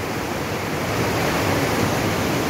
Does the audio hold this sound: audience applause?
no